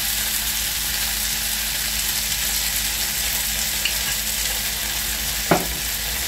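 Chicken wings fry in a pan with onion, giving a continuous close sizzle and bubbling hiss with occasional stirring clinks and a sharper scrape near the end, no talking.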